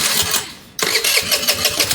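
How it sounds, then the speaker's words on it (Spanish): A scooter motorcycle engine cranks briefly and then catches, settling into a loud, close, buzzing idle that pulses and runs steadily to the end. "Vamos a prender la motocicleta nuevamente."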